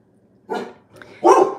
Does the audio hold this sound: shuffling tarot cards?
no